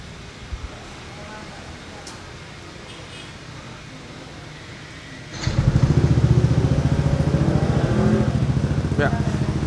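A Yamaha NMax scooter fitted with a full-system exhaust starts midway through, then idles with a loud, even, throbbing burble that follows quieter background noise and talk.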